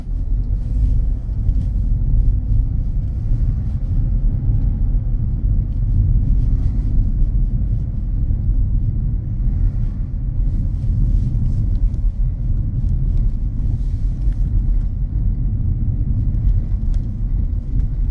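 A car moving off from a parked position on a road during a driving lesson, a steady low engine rumble with wind-like noise running continuously, fairly loud and close, without speech.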